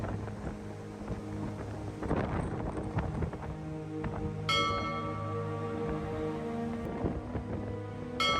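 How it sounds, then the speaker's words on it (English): Strong wind blows along the Lake Erie shore, a steady low rumble buffeting the microphone, with a few tonal clanks or chimes partway through. "The wind out here is absolutely crazy. I know you can hear it."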